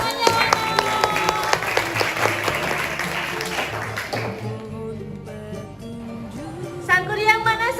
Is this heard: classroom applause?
yes